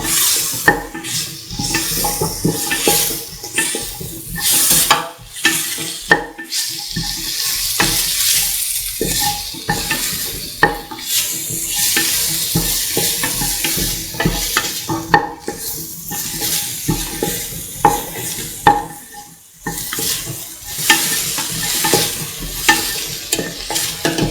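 Duck pieces sautéing in a pan for a dish cooked with coconut milk, loud sizzling broken by frequent scraping and stirring strokes and occasional clanks of the utensil against the pan, with no voices.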